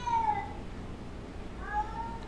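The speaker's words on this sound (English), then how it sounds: "Why does this cat have to do that when I'm live?" A house cat meows twice, two drawn-out rising-and-falling calls separated by a short pause, fairly close and clear, with no one speaking.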